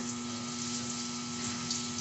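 Water draining out of an air compressor tank makes a steady, close hissing gush that runs unbroken and evenly throughout.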